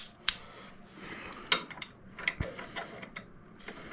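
A 5/16 Allen head bolt being tightened on a Hogworkz saddlebag conversion for a Softail motorcycle, giving a few sharp metallic clicks and ratcheting ticks between quieter scraping, close and soft, no talking.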